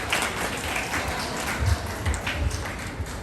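A school audience at a junior high school performance in Pekanbaru, Indonesia, claps in a dense, steady patter of applause that holds at the same level throughout, with no voices standing out.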